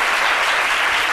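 Television show audience applauding, a dense, loud, continuous wash of clapping hands with no talk over it.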